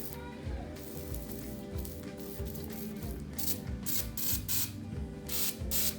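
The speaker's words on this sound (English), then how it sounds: "What we'll do, just spray this down." Short repeated bursts of a spray bottle hissing degreaser onto a house's black stain, several quick squirts over steady mechanical background noise.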